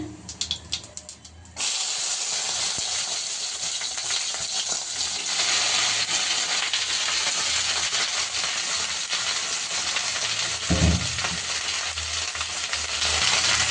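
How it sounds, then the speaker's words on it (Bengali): Cumin seeds tempering in hot oil in a pan, cooked as part of an okra fry: after a brief quieter start, a steady, loud, continuous sizzle and crackle fills the rest of the clip with no speech. "এরপরে দিয়ে দিব জিরা ফোড়ন, চুলার আঁচটা একটু কমায় নিতে হবে।"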